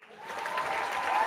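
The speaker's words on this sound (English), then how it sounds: "That deserves a round of applause." A short burst of applause for Luke, celebrating his real estate success: a room of clapping hands that swells quickly and holds steady and fairly loud for just over a second.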